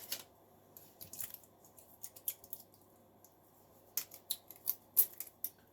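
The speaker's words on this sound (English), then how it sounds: "grab a piece of the metal, pull and snip" Hand snips cut spot-welded metal tabs off salvaged 18650 battery cells, producing a series of sharp, close metallic snaps and clicks in irregular bursts over quiet background.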